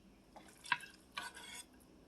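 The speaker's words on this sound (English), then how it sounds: "I'm going to finish scooping all of this deliciousness out of my crock pot." Chicken alfredo penne is scooped from a crock pot into aluminum pans, giving a few soft, close scrapes and clinks of a utensil against the pot and foil in a quiet kitchen.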